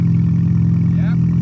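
KTM 450 quad engine idling steadily after being started, a constant low rumble throughout with a brief faint rising tone near the end.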